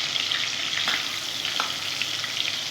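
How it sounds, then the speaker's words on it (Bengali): Boroli fish frying in oil, a steady close crackling sizzle that runs unbroken with a few brief spitting pops and no voices. "আমি এখন ভেজে নেব মাছগুলো। আমি লাল লাল করে ভেজে নেব বন্ধুরা।"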